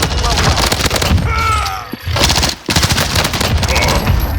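Rapid bursts of close SMG gunfire in Warzone, fast automatic rattles broken by short pauses, with voices talking over the shooting.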